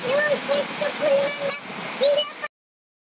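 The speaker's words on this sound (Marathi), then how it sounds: "हा नदीला पाणी चाललंय." Broad, steady rush of flowing river water close by, with a high voice faintly calling over it before the sound cuts off abruptly.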